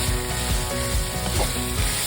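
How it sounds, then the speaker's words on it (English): Ground pork with garlic fries in a pan while being stirred, a loud close sizzle broken by rhythmic scraping strokes, with no speech. "Stir the pork until it is almost done."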